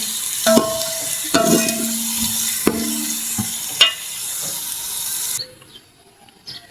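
Onions and garlic paste frying in a pan, a steady loud sizzle with several sharp clatters of stirring, before the sizzle drops away to quiet near the end.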